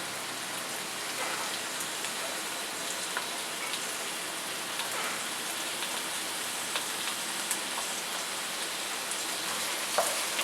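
Onions sauté over medium heat in a pan for pork and chicken adobo, giving an even, soft, continuous crackling sizzle that stays steady throughout.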